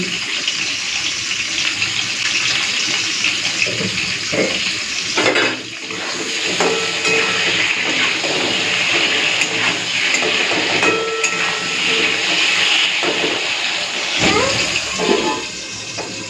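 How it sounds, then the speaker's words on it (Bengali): Pumpkin pieces fry in the oil left from frying aubergines, giving a steady, loud, hissing sizzle that continues without talk, with a few brief dips and bumps partway through. "চলো এই তেলের মধ্যেই আমি এই কুমড়োটা ভেজে নিই।"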